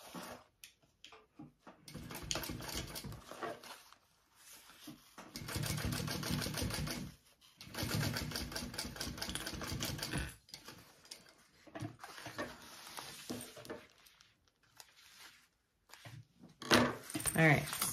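A sewing machine top stitching fabric runs in several bursts of rapid, even mechanical ticking, stopping and starting with pauses between runs, fairly close.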